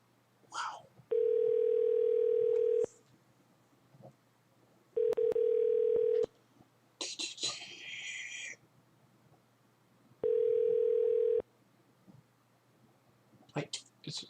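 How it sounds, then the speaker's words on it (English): A telephone ring tone on an outgoing call that goes unanswered, three long steady rings spaced a few seconds apart, clear and close, with quiet rustling and a burst of hiss between them. "I bet it's just gonna keep on ringing until like, someone picks up"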